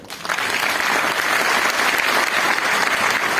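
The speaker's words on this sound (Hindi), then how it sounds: "तालियां होनी चाहिए।" An audience at a success training seminar bursts into applause, a dense, even wash of many hands clapping that holds steady for several seconds.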